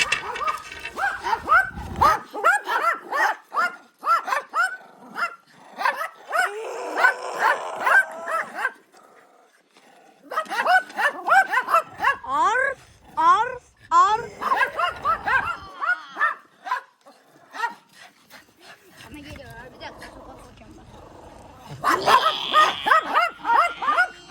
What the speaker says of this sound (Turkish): Köpekler çıldırdı var ya.